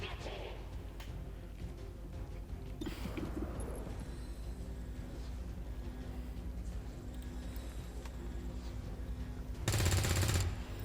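Gunfire in the XCOM 2 strategy game sounds as a short, loud automatic burst near the end, over faint game ambience and scattered softer shots.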